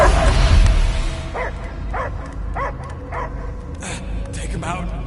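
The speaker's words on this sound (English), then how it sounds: "I hear only barking." A dog barks and yips in the Guardians of the Galaxy video game, a run of short, evenly spaced barks amid game sound effects and character voices talking over them.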